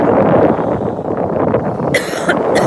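A person coughs close by over a constant rushing background noise at a beach during red tide, with a couple of harsher bursts near the end.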